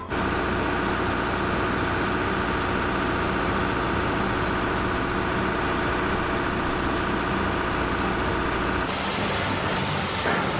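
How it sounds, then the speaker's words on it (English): Heavy excavator engines run together at night on a work site, a loud, continuous low diesel drone with a dense steady rumble that shifts abruptly near the end. "Engines growl in unison,"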